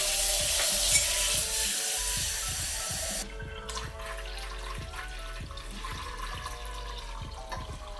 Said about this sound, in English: Now it's time to put 4 cups of cold water in there.